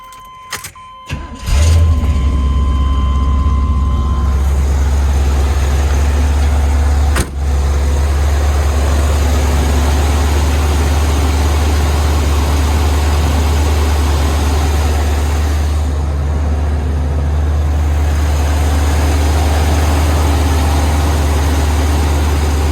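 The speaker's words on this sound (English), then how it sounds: "I'm gonna get that engine started" A 1978 Chevrolet Corvette engine cranks and fires after a few short clicks, then settles into a loud, steady idle with a deep low rumble that holds evenly for the rest of the stretch, with one brief sharp knock midway.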